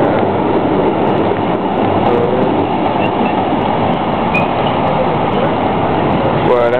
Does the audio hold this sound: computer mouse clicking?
no